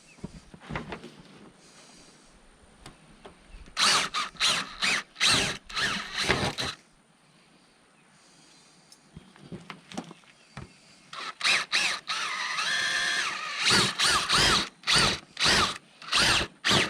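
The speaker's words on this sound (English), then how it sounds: "We need to drill all 3 of the rivets off the cap to remove the motor." A power drill with a 5/16 bit bores out rivets from an RV awning motor end cap, running in repeated loud bursts with short pauses and a quieter stretch between.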